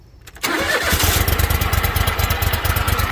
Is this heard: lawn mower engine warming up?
yes